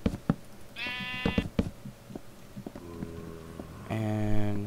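Sheep in the video game IndieCraft bleat in two long, wavering calls amid clicking game sounds, the second louder and closer than the first.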